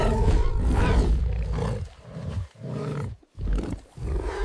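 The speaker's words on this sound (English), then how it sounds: "Roars echoed across ancient lands." A deep, sustained animal roar rolls in long, loud waves with brief breaks, a full-bodied sound effect of a large wild beast in ancient open country, with no talking.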